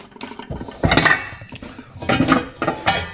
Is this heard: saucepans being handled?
yes